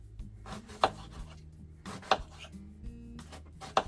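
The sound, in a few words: knife cutting thin slices of watermelon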